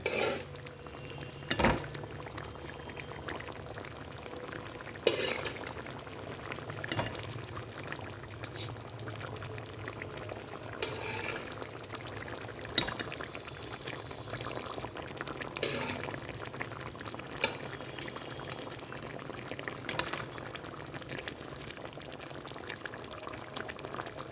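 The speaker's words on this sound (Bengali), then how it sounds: "দেখো ঝোলটা ফুটে উঠেছে" Boal fish curry gravy with fried fish pieces simmering and bubbling in a pan, a steady soft liquid burble with a few sharper clinks or stirs, heard alone without talk.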